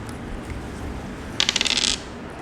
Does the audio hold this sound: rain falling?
no